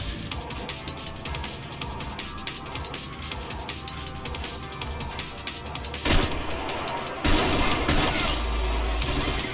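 Gunfire from a sniper rifle and other weapons in a first-person shooter game, Selaco or Trepang2: a dense, steady barrage of shots with two sharper, louder blasts near the end.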